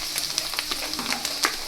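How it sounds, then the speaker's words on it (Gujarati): Chopped garlic with asafoetida crackling in hot oil for fenugreek greens bhaji, a dense close sizzle with quick popping spatters throughout. "હવે આપણે 2 થી 3 સેકન્ડ માટે લસણને તેલમાં સાતળવા દઈશું"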